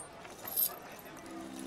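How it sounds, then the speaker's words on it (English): Shuffling chains drag across steps behind a stage as an audio drama sound effect, a quiet metallic jangle with a brief brighter clink near the middle, over a soft background hum. "they heard the shuffle of chains across the steps behind the stage"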